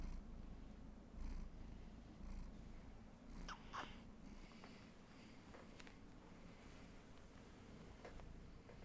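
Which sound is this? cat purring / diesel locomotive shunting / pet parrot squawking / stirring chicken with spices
cat purring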